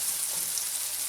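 Sliced yellow summer squash sautés in a pan with a steady, dense sizzle and crackle that holds even throughout, close and fairly loud, with no voices.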